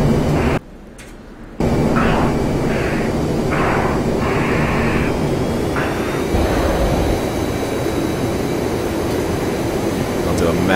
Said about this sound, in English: Hear the airframe sounds.